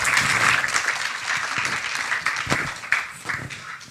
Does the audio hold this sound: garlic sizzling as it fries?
no